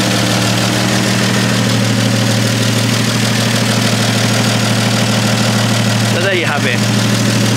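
A 1954 Chevy 3100 short bed half ton pickup idles with a loud, steady low engine drone throughout, and someone speaks briefly near the end.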